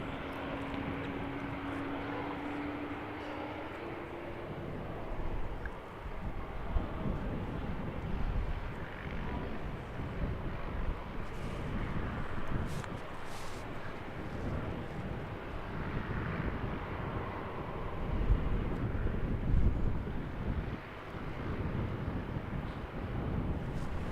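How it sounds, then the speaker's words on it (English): Gusty wind blows steadily across an open airfield at Christchurch Airport, New Zealand, a broad continuous rush with no pauses that swells slightly and carries a faint low aircraft rumble underneath. "Wind just picking up a wee bit."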